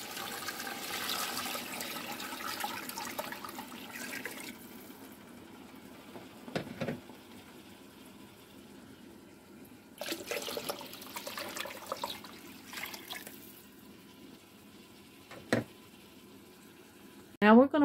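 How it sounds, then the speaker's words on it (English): Water pours into a pot holding chicken in two rushing bursts separated by quieter stretches, with a few clinks and thumps. "you want to put water in to cover your chicken"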